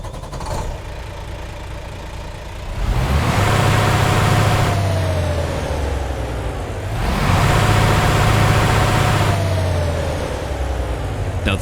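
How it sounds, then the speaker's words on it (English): Engine of a 2025 Volvo VNL 860 truck in American Truck Simulator, a deep diesel drone that revs up twice in long swells and eases back toward idle between them, loud and close with no talk. "the sounds you've just heard are the stock American Truck Simulator sounds for this brand new Volvo"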